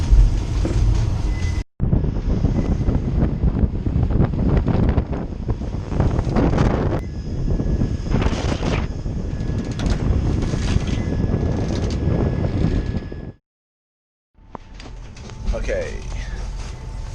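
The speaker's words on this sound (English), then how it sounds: "the wind picked up again" Strong wind roaring across the microphone while sailing a boat across the Caribbean, loud and continuous with gusty surges, cut by a brief silence near the end.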